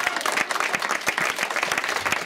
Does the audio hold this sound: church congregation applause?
yes